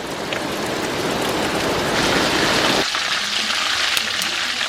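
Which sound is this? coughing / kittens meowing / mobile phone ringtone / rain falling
rain falling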